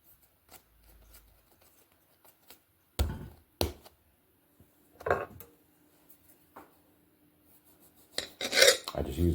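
A serrated knife saws through a ball of kneaded sweet bun dough on a counter, producing a few short rasping strokes separated by quiet gaps, close and moderately loud, ending in a busier scraping flurry.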